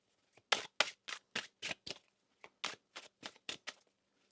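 A deck of tarot cards being shuffled by hand, about a dozen crisp riffling bursts in a steady, slightly uneven rhythm, close and fairly quiet with no talking.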